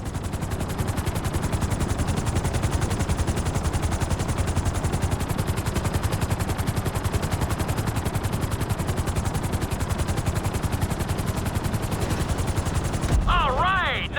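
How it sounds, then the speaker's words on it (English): Helicopter in Grand Theft Auto V touching down on a helipad: a loud, rapid rotor chop pulses steadily throughout, with a sudden change in the sound near the very end. "Bring the helicopter down gently onto the helipad."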